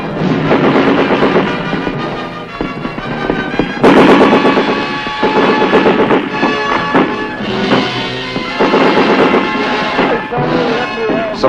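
Enemy mortar rounds and automatic weapons fire in combat against hidden underground fortifications, heard as a dense, loud, continuous barrage of overlapping bursts and blasts with no pauses.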